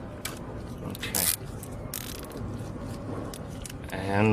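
A plastic zip tie is ratcheted tight on Mercedes V8 throttle body parts, a close run of rapid clicking pawl teats in short bursts over several seconds, with a voice coming in near the end.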